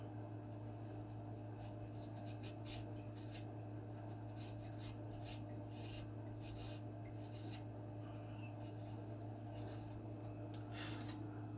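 Wood on a Great Planes Ultra Sport 1000 model airplane fuselage is trimmed by hand, giving short, quiet scraping and rubbing strokes in irregular bursts over a steady low hum of room noise.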